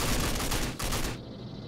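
Enemy gunfire in the RAGE shooter game, a dense burst of rapid shots loud and close for over a second, then cutting off to a quieter rumble.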